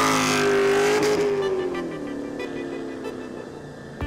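A Mazda RX-7 drifting nearby, its rotary engine revving high with a rising then falling whine and tire noise, loud and close before fading slightly as it moves away.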